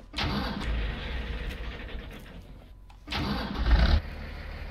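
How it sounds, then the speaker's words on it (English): An old International tractor engine in Farming Simulator 19 cranks, sputters and fades, then cranks again and catches in a second loud burst before settling, heard close with no talk. "Let's see how this old tractor starts up."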